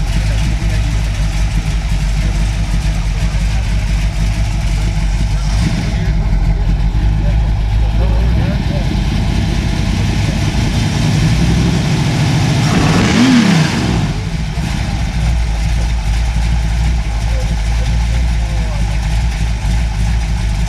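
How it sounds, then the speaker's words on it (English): A Chevrolet 409 V8 idles with a deep steady rumble, then revs up sharply once around the middle before dropping back to idle, heard nearby in a ranch car collection with voices faintly in the background. "Car you just saw revving up was a 409"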